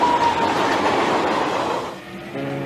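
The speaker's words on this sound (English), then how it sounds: "Tanks and other heavy equipment are moved in by train from Poland." A military train carrying tanks and heavy equipment rolls steadily past, a continuous loud rumble with clattering wheels that drops off briefly near the end before a lower tonal hum takes over.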